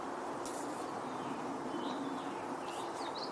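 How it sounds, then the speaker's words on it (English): Faint, fluting bird phrases of a wood thrush drift in from a distance over a steady background hiss of outdoor ambience. "I'm hearing a wood thrush in the woods behind me."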